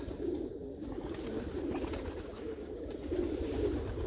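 Meuleman racing pigeons, carnos and tiger grizzles, cooing steadily inside a loft, a soft continuous low murmur of overlapping coos close by with no talk.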